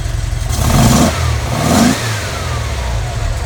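A 1957 Speedster's engine, with its original black Bosch distributor cap, runs smooth and loud, revving up twice in steady swells before settling back toward a strong, even idle.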